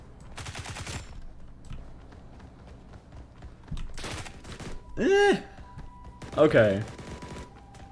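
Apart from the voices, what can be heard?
UMP submachine gun firing in the video game BRM5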